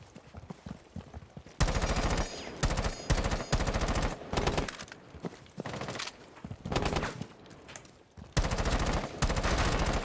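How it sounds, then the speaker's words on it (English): Enemy gunfire in the Rainbow Six tactical shooter, heard as loud rapid bursts of automatic shots in several volleys with brief gaps between them, close and dominant, with no talk over it. "Oh, he's trying to shoot at me, bro."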